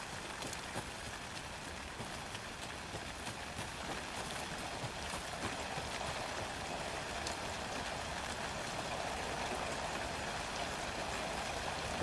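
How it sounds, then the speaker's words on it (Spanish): Steady rain falls in the video game Alan Wake 2, a dense, even patter of drops that carries on unbroken at moderate loudness, with no voices. "Va como llueve."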